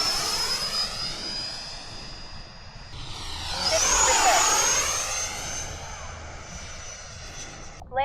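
A Raptor Lite RC model airplane flies at a model airfield, its whining engine pitch sweeping up and down as it passes close overhead, loud and steady with a Doppler swoop midway.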